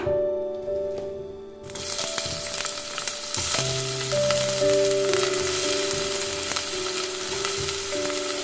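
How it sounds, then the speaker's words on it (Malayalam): One medium sliced onion drops into hot oil in a pan for a potato-cauliflower curry, then sizzles loudly and steadily with stirring scrapes throughout. "ഒരു മീഡിയം സൈസ് സവാള, ഞാനിവിടെ സ്ലൈസ് ചെയ്തെടുത്തിട്ടുള്ളതാണ്, അത് ഇട്ട് കൊടുക്കാം."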